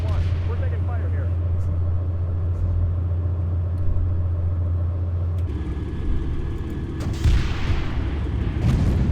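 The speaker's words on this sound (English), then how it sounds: "We're taking fire here." Incoming enemy fire hitting tanks in Steel Beasts, a constant low engine rumble with booming impacts and a sharp crack later on, with people talking over it.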